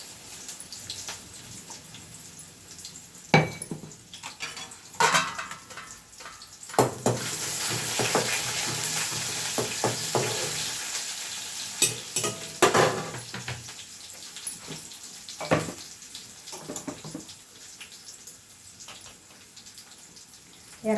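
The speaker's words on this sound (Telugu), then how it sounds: "తాలింపులోనే అల్లం వెల్లుల్లి పేస్ట్ వేసేస్తున్నాం." Ginger-garlic paste dropped into a hot tempering for a moong dal curry, bursting into a loud sustained sizzle that swells and fades, framed by sharp clanks of a spoon against the pot, close by with no talk.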